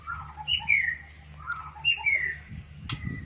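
A white-rumped shama (murai batu) calls in short, clear whistled phrases that rise and fall, repeated at a steady pace, with a sharper squawk near the end and faint low background hum underneath.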